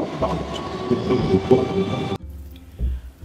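A train rumbles loudly nearby at the Somra Bazar railway station with rhythmic clattering, then the noise cuts off abruptly, leaving a quieter background with a brief low thud.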